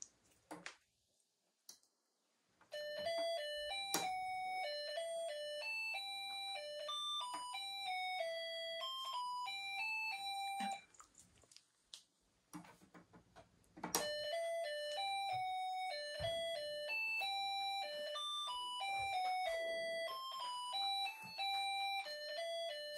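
A Snap Circuits Jr. toy circuit plays an electronic doorbell melody, a thin, buzzy sequence of stepped beeping tones that runs for several seconds, breaks briefly, then starts the tune again, fairly close and clear.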